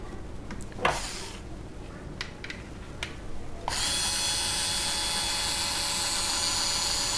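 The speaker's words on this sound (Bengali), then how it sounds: "আমি অটোমেটিক স্ক্রুড্রাইভার ব্যবহার করছি" Automatic screwdriver unscrewing a multisocket switch at home: a few sharp clicks and knocks, then a steady high whirring motor drone that runs on continuously, close and fairly loud.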